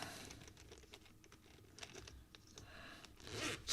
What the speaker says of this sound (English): Smooth zipper, very smooth, and it's covered.